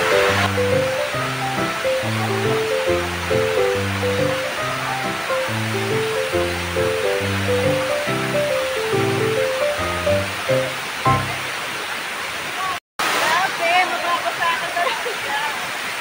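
Steady roar of a waterfall at Waterfalls Cave outside Bird Paradise in Singapore, a constant broadband rush with rhythmic music playing over it for most of the stretch before the water continues alone.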